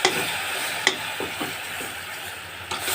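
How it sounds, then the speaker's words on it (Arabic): Grated onion and tomato sauté in a pot for a one-pot stuffed vegetable dish, giving a soft, steady sizzle broken by a few light taps and stirs. It stays quiet and close, with no voices. "هسيبها بقى تتشوح كويس كده وهغطيها"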